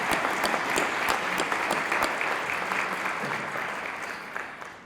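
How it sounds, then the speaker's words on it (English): Audience applause for award winners at a campaign announcement event, a dense wash of many clapping hands with a few distinct sharp claps standing out, steady and fairly loud before tapering off toward the end. "One more round of applause for the award winners."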